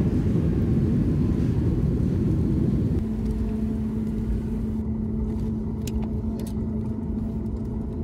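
An airliner landing at Mumbai's Chhatrapati Shivaji Maharaj International Airport roars in a dense, steady cabin rumble, then settles into a slightly quieter drone with a steady hum, continuous and loud with no talking.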